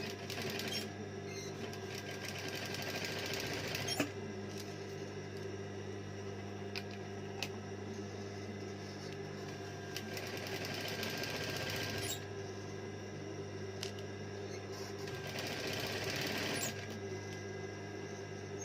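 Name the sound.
sewing machine stitching a neckline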